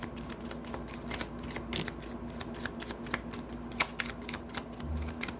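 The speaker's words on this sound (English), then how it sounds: "Put these back and give it a shuffle." A deck of tarot cards shuffled steadily for several seconds during a love reading, giving dense continuous riffling and flicking with sharp clicks throughout and no voices.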